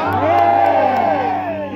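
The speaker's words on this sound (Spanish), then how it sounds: "Alguien grita un amén fuerte." Church congregation shouting a loud amen together, a single swelling collective cry from many voices that rises and fades within about two seconds, close and full.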